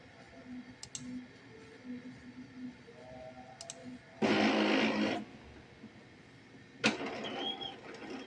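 An Epson printer running a power cleaning of clogged nozzles: scattered mechanical clicks, then a loud steady whirring burst lasting about a second, and another surge of motor noise toward the end.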